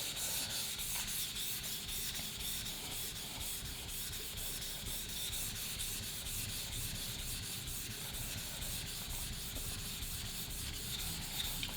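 A wood chisel is sharpened on an 8000 grit whetstone, giving a steady, close, continuous gritty rubbing that scrapes back and forth with no talk.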